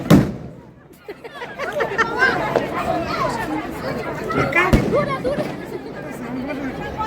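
Firecrackers bursting at a New Year celebration, one sharp close bang at the start and another near the middle, set against lively overlapping voices chattering and shouting throughout.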